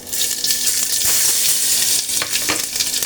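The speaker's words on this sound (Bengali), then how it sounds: "তেলটার মধ্যে আমি একটু ফোড়ন দিয়ে দেব কালো জিরা আর জিরা দিয়ে" Black cumin and cumin seeds sizzling in leftover fish-frying oil, a loud continuous close crackling sizzle with intermittent spatter pops and stirring clicks.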